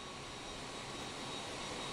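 Airliner taxiing in a flight simulator game gives a faint, steady jet engine whine and hiss, an even distant drone that holds without change throughout.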